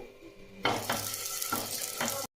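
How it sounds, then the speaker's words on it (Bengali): After a quiet moment, eggplant hits a hot oiled pan and starts sizzling, with a couple of surges as pieces are moved around. "প্যানে এখানে বেগুন দিয়ে কিন্তু তেল ব্রাশ করে দিয়েছি"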